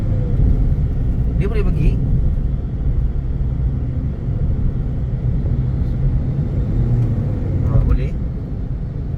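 A new Proton Saga MC3 car accelerates with a steady engine rumble and road roar filling the cabin throughout, while someone talks over it.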